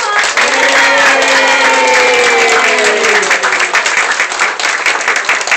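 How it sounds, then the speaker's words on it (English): An audience claps loudly and steadily after a children's Christmas recital, a dense wall of applause with voices calling out over it during the first few seconds. "Let's give them one more round of applause."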